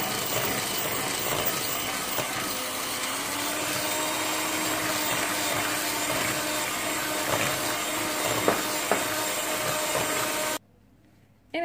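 New York cheesecake batter being mixed with an electric mixer, a loud continuous motor whir held for about ten seconds before cutting off abruptly.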